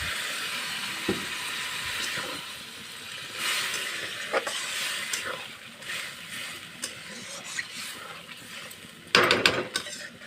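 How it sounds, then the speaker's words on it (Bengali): Water poured into a hot pan of cooking yardlong beans gives a steady, fairly faint sizzling hiss, with a sharper, louder flare of sputtering near the end. "এখন জল দিয়ে দিচ্ছি।"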